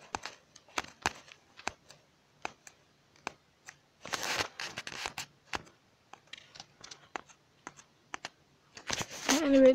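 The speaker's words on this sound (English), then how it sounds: "Clicking on the buttons," Buttons being clicked repeatedly, close up, as sharp irregular taps with a denser flurry of rapid clicks midway and near the end.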